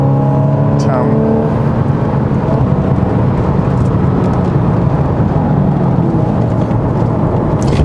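A Porsche 981 Boxster S mid-engine roadster is driven hard along a winding road, its engine droning steadily with shifting tones and tire and wind noise throughout, with someone talking over it.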